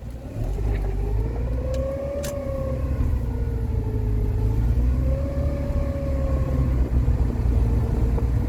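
A Rover 45 Impression S3 with a CVT gearbox drives along a road, its steady engine drone holding a gently wavering pitch over a constant low rumble of road and tyre noise, fairly loud inside the cabin with no talk.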